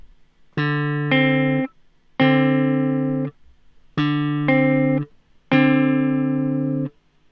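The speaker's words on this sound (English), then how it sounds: "you'll hear both notes of the interval separately and then together." Four sustained tones in two pairs, each pair a note held then a second note sounding on top, clear and steady with short gaps of silence.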